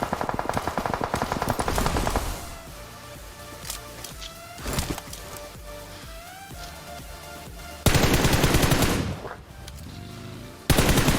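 Rapid bursts of automatic gunfire in the battle royale game BGMI, loud close volleys at the start, mid-clip and end with quieter distant shots and sniper cracks between, no talking.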